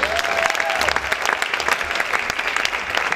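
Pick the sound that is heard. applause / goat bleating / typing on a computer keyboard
applause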